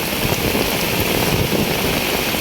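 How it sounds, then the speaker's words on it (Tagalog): Heavy monsoon rain pours steadily, a loud dense wash of noise with no pauses and no voices. "Ayan oh, grabe na yung ulan."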